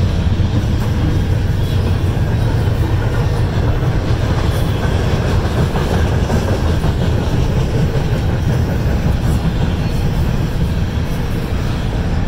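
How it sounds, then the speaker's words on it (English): A train hauled by a locomotive passes close by, a loud, continuous low rumble with rattling wagons and clickety-clack that stays steady throughout, with no talking. "I'm going to end this video here because I hear a train coming"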